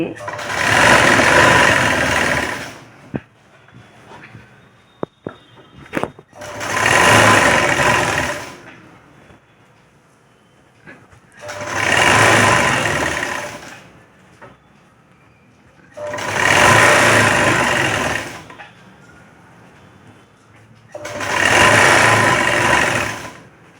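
A sewing machine stitches a blouse sleeve in five loud, evenly spaced bursts of a few seconds each, separated by quieter gaps where a voice talks.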